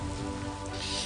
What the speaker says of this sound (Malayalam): ഓ, ഈ നശിച്ച മഴ എത്ര നേരമായി.